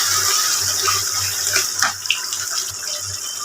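Pabda fish slipped one by one into water already at a boil in a pan for Bengali pabda fish curry, a steady close hiss and bubbling of boiling water with brief splashes in the middle and no talk.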